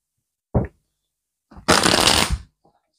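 Tarot cards being shuffled for a reading: a short riffle burst, a pause, then a longer, louder flurry of papery card shuffling lasting about a second, close and alone with no talking.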